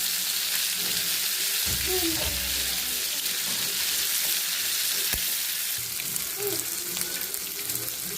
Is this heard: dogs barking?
no